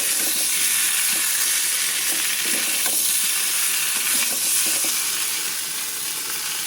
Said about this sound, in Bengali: ভালো কষাইয়ে আলু আর মূলো দেবো একটু, আমি কষাই নেবো দিয়ে এটা ভালো করে কষাই নিলাম।